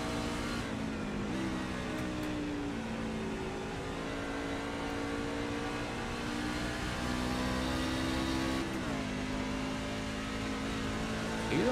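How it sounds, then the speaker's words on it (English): Onboard race car engine at Phoenix Raceway, a steady loud drone with rising pitch sweeps as it accelerates and a clear gear shift near the end, continuous throughout with no talking. "See what it sounds like inside of Holyman's car at the moment."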